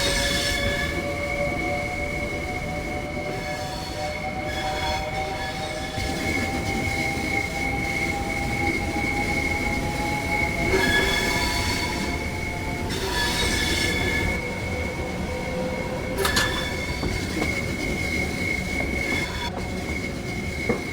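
A train in Train Sim World 3 rolling toward the up siding between Dartford and Gillingham, a steady rumble with long high wheel squeals drifting in pitch and occasional clanks, continuous throughout.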